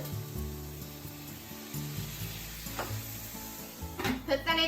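Chicken meatballs for Japanese tsukune frying in a pan, with a sudden loud burst of sizzling and crackling near the end as a few tablespoons of water hit the hot oil, after steady quieter frying.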